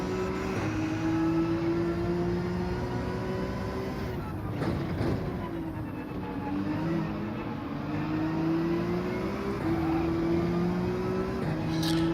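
Porsche race car engine in Gran Turismo 7 at the Nürburgring, a steady sustained drone with shifting pitch as it revs and slides, loud and continuous throughout with no talk.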